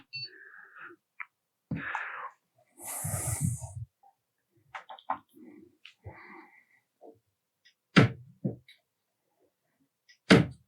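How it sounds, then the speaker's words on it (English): Sharp latch clicks from the door of a Prusa Core One 3D printer enclosure as it is opened and closed, two crisp near clicks standing out after a stretch of handling noise and rustling. "I can hear it clicking now. So open and close the door."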